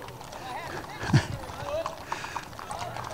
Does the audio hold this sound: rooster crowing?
no